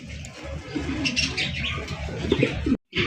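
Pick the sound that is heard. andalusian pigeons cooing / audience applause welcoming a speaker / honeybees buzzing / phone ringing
andalusian pigeons cooing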